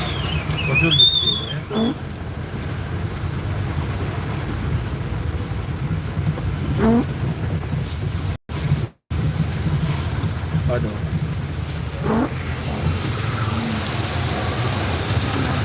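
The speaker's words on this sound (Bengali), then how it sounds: "প্রচুর বৃষ্টি" Heavy first rain of the season pours over Sylhet city, a steady dense hiss of drops that runs through the whole stretch with one brief dropout, while faint voices pass now and then.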